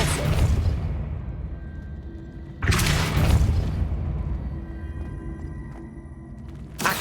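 The Depulso force spell being cast in Hogwarts Legacy on PS5: two heavy whooshing booms that each decay into a rumbling tail, with a third burst starting at the very end. No voices are heard.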